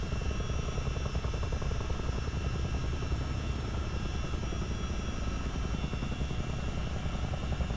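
CH-47D Chinook tandem-rotor military helicopter in Microsoft Flight Simulator, a loud, steady rotor thrum and engine whine that runs unbroken for several seconds with no talk.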